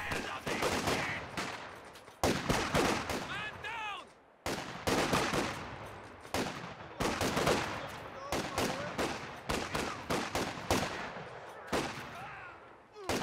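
Video game battle between a Soviet Commissar squad and grenadiers at close range: dense bursts of rifle and machine-gun fire with sharp cracks, brief pauses and faint shouted voices mixed in.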